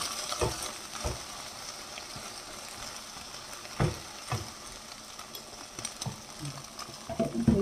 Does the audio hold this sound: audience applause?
no